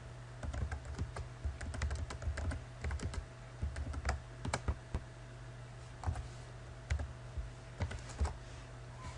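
Fast typing on a laptop keyboard while entering figures without a numeric keypad, a steady patter of close, crisp key clicks in irregular bursts over a low background hum.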